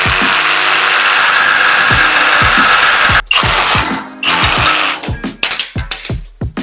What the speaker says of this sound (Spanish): Ahorita voy a cortar este material de PVC.